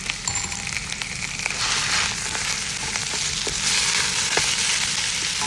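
Chicken for chow mein sizzles and crackles in a hot pan, steady frying hiss with occasional clinks and stirring scrapes.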